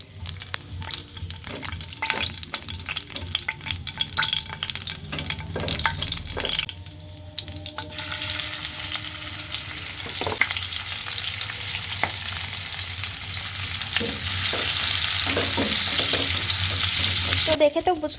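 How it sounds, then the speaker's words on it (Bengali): Dried red chillies and chopped onion sizzle in hot oil in a home kitchen, with utensil scrapes and clinks, then the frying swells into a louder, steady hiss partway through. "তেলের মধ্যে দিয়ে দিলাম শুকনো লঙ্কা, আর তার মধ্যে দিয়ে দিলাম পেঁয়াজ কুচি"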